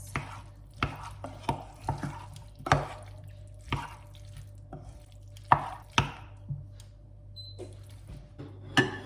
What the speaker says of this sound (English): Give it a good stir. You want to just make sure that all the pasta is coated in the sauce.